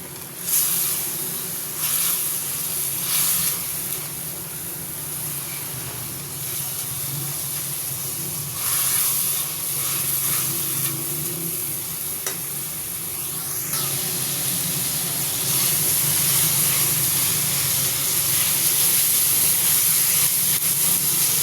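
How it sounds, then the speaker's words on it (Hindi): Food, with tomatoes among it, frying and sizzling in a pan: a steady, close hiss that swells slightly over time, with no talking. "इसकी भी थोड़ी देर भुनाई करते हैं।"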